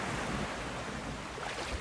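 Waves of the incoming tide washing onto a beach, a steady faint rushing surf mixed with wind buffeting the microphone and no voices.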